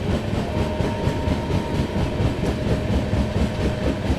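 The Farakka Express rolls along just after leaving Malda Town station, a loud, steady rumble from inside the coach with a constant low drone and faint rhythmic clickety-clack of wheels over rail joints.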